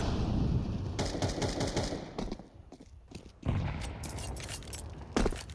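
Pistol gunfire in a Counter-Strike 2 pro match between MOUZ and Imperial at BLAST Open London 2025: dense bursts of rapid shots over continuous game noise, with a short lull and then sharper shots near the end.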